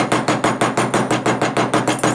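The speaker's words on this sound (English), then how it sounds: "you can come in with your plastic mallet and kind of hammer it" A plastic mallet hammers a metal wire bangle bracelet to straighten and harden it: about a dozen close, loud, evenly spaced knocks in a brisk steady rhythm, with no voices.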